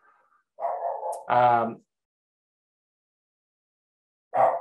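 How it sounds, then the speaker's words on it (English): A house dog barks in the background during an online webinar call, giving two quick yelping barks followed after a pause by a third short bark, all moderately loud with near silence between. "you can hear my dog barking in the background"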